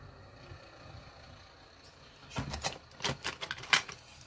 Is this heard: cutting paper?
yes